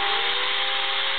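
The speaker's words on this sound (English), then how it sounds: "I'm going to run the drill." A regular handheld electric drill runs steadily at full speed, a loud, constant motor whine with no change in pitch or rhythm throughout.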